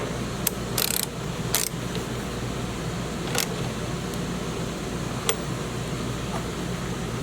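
Hand ratchet tightening a bolt on a Jeep Cherokee, sharp close clicks in a few short bursts over a steady background hum, no talking.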